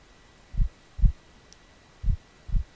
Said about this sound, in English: I think I'm sensing a heartbeat.